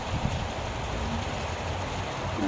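Heavy rain growing stronger during a rainy day, a steady dense hiss of downpour at constant level, no voices.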